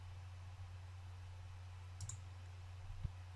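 A single faint mouse click on a computer, heard over a steady low electrical hum with no talk.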